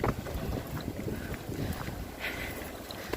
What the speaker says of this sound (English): It is windy as I don't know what.